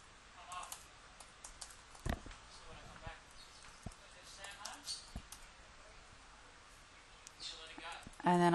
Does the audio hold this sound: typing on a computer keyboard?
yes